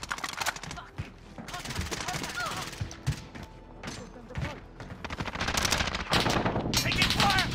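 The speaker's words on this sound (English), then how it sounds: "Taking fire!" Gunfire in a shooter video game, with rapid bursts of automatic fire and single shots, loud and close, coming in clusters across the clip while players talk over it.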